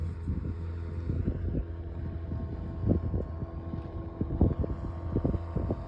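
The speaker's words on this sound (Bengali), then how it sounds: "স্পিড বোট টাইপের হবে।" A speedboat engine on the water at Rosses Point, a low steady drone carried on wind with buffeting microphone noise, fairly distant and continuous.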